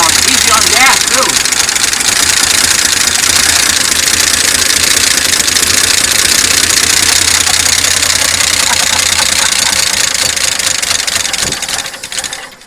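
A 1972 Chevy pickup engine idles steadily and loudly the whole time after sitting unused for 24 years, with a faint knocking rhythm and voices talking over it before it cuts off at the end.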